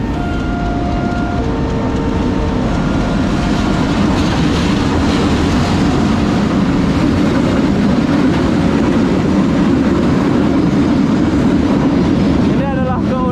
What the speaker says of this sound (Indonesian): Ini adalah kereta api, kereta api barang ini ya.